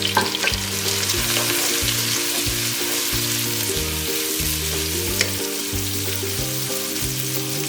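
Onions frying with salt in a pan give a steady, close sizzle that runs the whole time beneath rhythmic background music.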